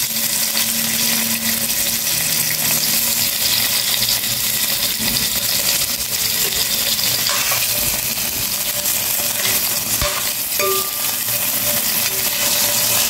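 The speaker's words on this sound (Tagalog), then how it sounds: "Painitin muna natin ng mantika. Ilagay na po natin yung ating kamatis." Tomato goes into hot cooking oil and sizzles loudly and steadily in the pan, with scattered pops and light stirring, close and continuous throughout.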